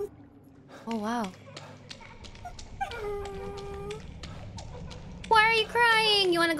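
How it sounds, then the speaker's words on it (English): A dog whimpers and cries in a video game, with several thin, wavering whines and howls rising in pitch, the loudest near the end, mixed with a quiet voice in the background. "My dog is crying."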